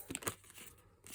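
Tarot cards being shuffled by hand, giving a few quick papery riffles and crinkles close up in a quiet room, with the rustle fading toward the end.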